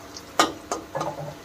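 Onions browning in a pan for a Bihari-style matar paneer curry, with a few short scraping stirs over a soft frying sizzle, close and moderately loud.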